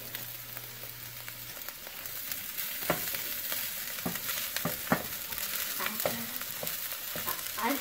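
Rice stir-fried with scrambled egg and vegetables in a pan, a faint continuous sizzle broken by repeated scraping and tossing clatters of the spatula at an uneven rhythm, close by with no talk.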